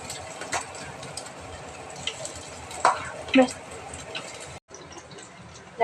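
Marinated chicken pieces frying in hot oil give a steady, soft sizzle with a few brief clatters and pops, close by and fairly quiet throughout.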